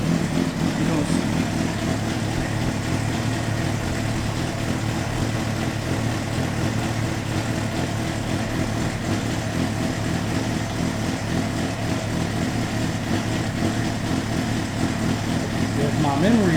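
A Honda CBR600RR motorcycle engine runs in first gear with a steady, unbroken drone close by, while a person talks over it.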